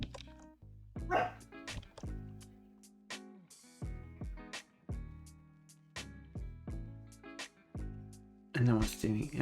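Repeated dog barks ring out one after another in an uneven rhythm, close and fairly loud, with a few yips and a final cluster, while someone talks in the background.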